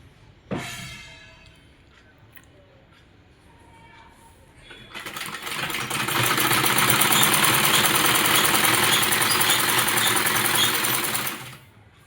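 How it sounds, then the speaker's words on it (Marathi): A sewing machine stitches the folded hem of a satin petticoat, running in a loud, steady whir for about six seconds before stopping, after a quiet stretch with a brief sound near the start. "आता शिलाई मारण्यासाठी पहिले खालून शिलाई पूर्ण अशी हळूहळू धरून फोल्ड करून व्यवस्थित मारून घेईन."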